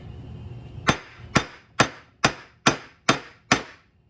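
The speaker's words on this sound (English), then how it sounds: "Hammer that down." A hammer strikes a cheap metal cable end onto coyote snare cable, seven sharp, evenly spaced taps of moderate loudness, heard close with no talk.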